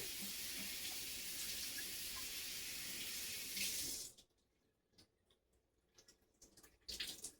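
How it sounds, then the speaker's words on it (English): A synthetic wig is rinsed under running tap water: a loud, steady rush of water for about four seconds, then it cuts off, leaving quiet handling noises and a few scattered drips. "And then I'm going to rinse that off too."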